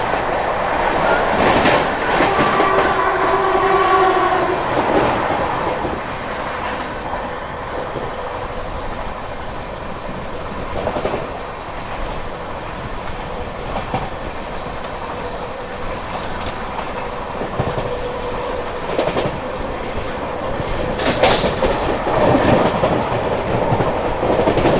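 Riding aboard the Rajdhani Express as it overtakes the Sangam Express near Khurja, a loud continuous rail rumble carries rhythmic clickety-clack and brief bursts of passing-train noise, close and steady throughout.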